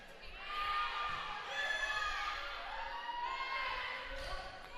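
A student section crowd cheers and shouts at a high school volleyball match between McFarland and Edgerton, a sustained roar of voices swelling and holding across the whole stretch.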